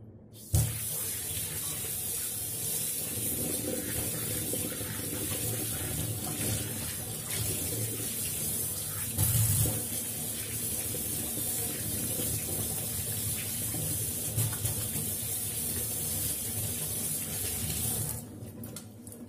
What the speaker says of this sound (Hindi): तो हम देखिए अच्छे से हाथों को हमने अच्छे से वॉश कर लिया है